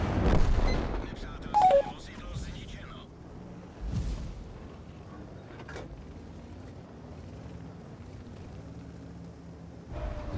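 Heavy tank cannon fire in World of Tanks, from enemy heavy tanks: a few scattered booming shots and impacts spread across the stretch, with someone talking in German over the game noise.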